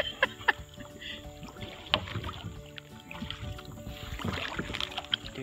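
Kayak paddles splash and dip in the water on an outing from a canoe and kayak rental, irregular close strokes and drips with light wind noise and no talking.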